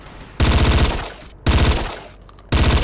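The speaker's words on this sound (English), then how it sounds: "Now it's time to fire off some celebratory gunfire." Three sharp bursts of automatic gunfire in the war game Battlefield Yugoslavia, each a loud sudden blast that decays over about a second, spaced roughly evenly apart with no talk.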